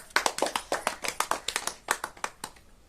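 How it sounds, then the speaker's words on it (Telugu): A crowd of audience members at a village bottle colour-matching game claps hands loudly, a rapid run of sharp, bright claps close by that fades toward the end. "క్లాప్స్ కొట్టండి గట్టిగా"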